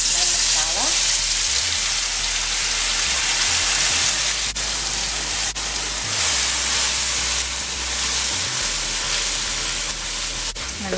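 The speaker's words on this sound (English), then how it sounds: "Now my oil is hot. I'm going to add my masala." Masala hits hot oil with a loud, dense, continuous sizzle and crackle, close up and unbroken, with no voices.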